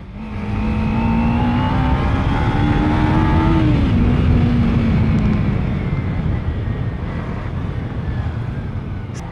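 A 2014 Kawasaki Ninja 300 motorcycle fitted with a K&N air filter runs close and loud, its steady engine drone rising in pitch, then dropping and settling into a lower hum.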